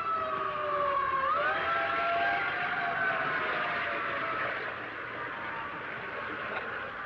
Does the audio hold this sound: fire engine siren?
yes